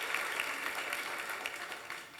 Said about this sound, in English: Let's give the panelists one more round of applause.